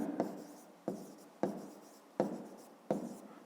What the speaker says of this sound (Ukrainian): Пишемо 9 не кратне